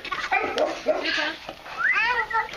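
A dog whimpers and gives short yips and soft barks close by, mixed with people talking over it.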